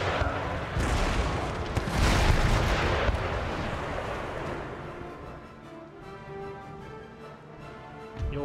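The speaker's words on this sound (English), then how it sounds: "Cumberland's opening fire." Naval cannon broadside from the ship Cumberland in the game Empire: Total War: a rolling barrage of deep booms merging into a heavy rumble, then fading under a musical score.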